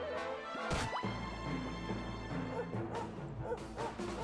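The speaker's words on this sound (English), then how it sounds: "get him, Sandy. Bark at those fools" Dog barking in Dragon Quest XI, a few sharp barks early on over a steady bed of game music and effects.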